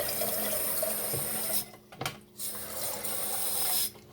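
Warm water runs from a tap to fill a container in a home kitchen, a steady, close gushing that cuts off briefly twice before resuming.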